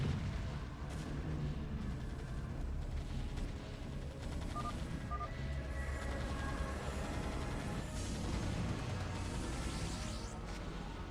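Siege tank cannon fire and battle explosions in StarCraft: Brood War, a dense continuous barrage of booms and crashes with no pauses, steady and fairly loud throughout.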